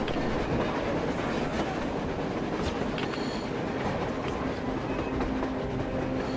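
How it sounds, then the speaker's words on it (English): A train rumbles past on the surface in the post-apocalyptic game Metro Exodus, with a steady heavy roar and rhythmic clickety-clack of wheels on rails that holds constant and loud throughout. "A train! A damn train on the surface!"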